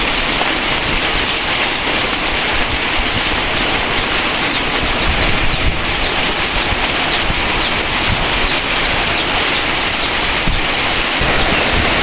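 Heavy rain pouring steadily outdoors, a loud, dense, unbroken hiss of drops hitting surfaces close by, with no voices over it.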